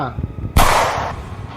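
A single sharp gunshot cracks loudly and close, then rings out in a decaying echo, following a brief rumble of low voices.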